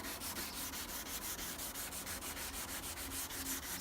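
A coarse nylon grit pad, like a rougher Scotch-Brite, scrubs house weatherboards being stripped, producing quick rhythmic back-and-forth rasping strokes, close and steady with no talking.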